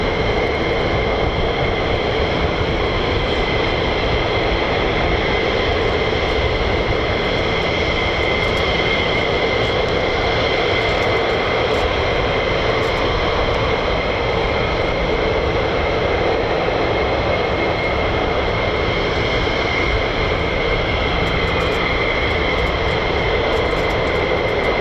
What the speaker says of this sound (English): Here we go, down the catwalk, F-15E Strike Eagles, here we go.